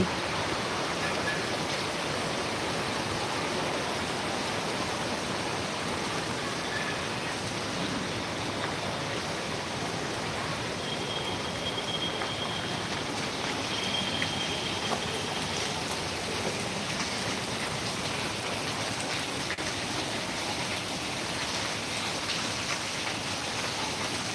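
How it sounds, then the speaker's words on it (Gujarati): Heavy rain pours steadily onto an office rooftop in Surat, a dense, continuous wash of hiss and patter that stays loud and unbroken throughout with no voices. "અત્યારે ફૂલ જોરમાંથી વરસાદ આવી રહ્યો છે"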